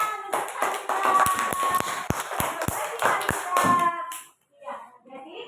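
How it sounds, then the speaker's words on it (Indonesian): Children in a classroom clap their hands in a quick burst of sharp, rhythmic claps alongside a teacher's voice, then the clapping stops abruptly and brief talk follows. "pintar tepuk tangan"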